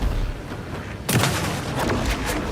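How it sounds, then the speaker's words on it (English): A single loud gunshot blast in the horror game Alan Wake 2, a sharp boom about a second in with a rumbling tail over steady background noise. "I tried to shoot it there."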